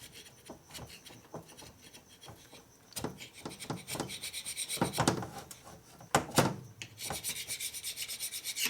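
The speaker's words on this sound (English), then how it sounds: "It scrapes nice and clean on the bottom, but it shoves the gasket straight through." A hand scraper rasps across an S&S 113ci Evo Harley cylinder head gasket surface, pushing off old gasket material in irregular scraping strokes, close and alone with no speech.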